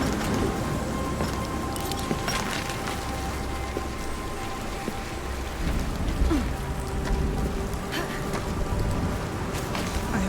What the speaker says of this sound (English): We have protected ourselves somewhat from the rain at the very least.